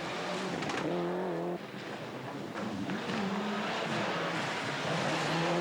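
A rally car engine roars loudly and continuously during a 2006 Ardennes rally stage, rising and falling in pitch as it revs hard, with no talking over it.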